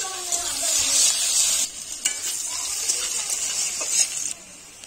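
Bay leaf and chopped onion dropped into oil left from frying potato and pointed gourd, sizzling loudly and crackling, then easing to a quieter fry, with occasional stirring clinks.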